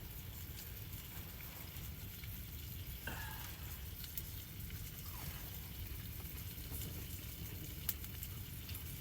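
Bacon frying on a homemade griddle set over a campfire, a faint continuous crackle and sizzle with scattered pops and a few scraping clicks, no talking.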